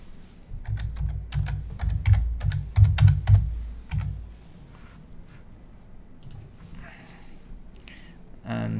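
Rapid keystrokes on a computer keyboard as a login password is entered, a close burst of clicking for about four seconds, then sparse faint taps and a soft rustle.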